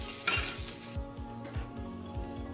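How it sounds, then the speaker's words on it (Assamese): Chopped green chillies and garlic fry in hot oil in a pan, with a brief loud sizzling burst followed by regular scraping stirs close by. "আমি 3টামান জলকীয়া কাটি ৰাখিছিলো, ইয়া দি দিছো। ধুনীয়াকৈ ভাজি লম।"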